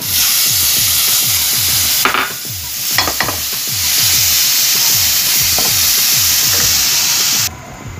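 Steady, loud sizzling of turmeric, chilies, cumin, ginger and garlic frying in a hot pan, with a constant crackling hiss and occasional stirring scrapes throughout.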